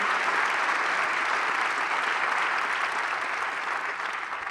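Conference audience applauding a speaker, a dense, even roar of many hands clapping that carries on steadily and fades slightly at the end.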